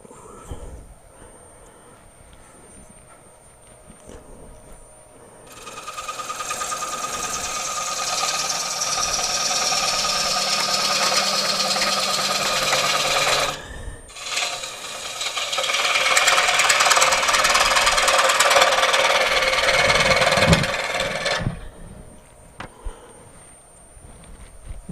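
Wood lathe in a craft workshop spinning up faster while a tool cuts the wood, a sustained whirring hum with rough scraping and rasping, loud and close, a brief dip midway before cutting resumes, then winding down.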